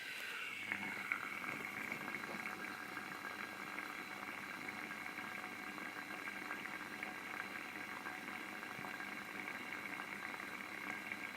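HHO electrolysis cell with carbon fiber electrodes running and giving off steam, a steady loud bubbling, boiling hiss that holds evenly from start to finish with no talk over it.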